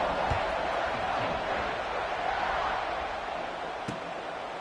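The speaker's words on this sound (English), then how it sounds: "this crowd now ready to get behind them" Broad stadium crowd noise at a College Football 26 game, a dense steady roar of many voices that fades slightly, with a game commentator talking over it.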